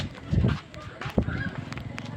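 A chicken squawks and clucks in short agitated bursts, close by, with scuffling noise and voices in the background.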